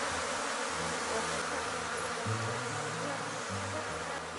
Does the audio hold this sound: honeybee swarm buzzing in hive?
yes